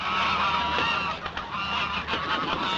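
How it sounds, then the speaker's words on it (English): Geese honk in a 1938 film scene, a dense continuous chorus of close, loud calls that fills the whole stretch with no pauses. "there's also geese"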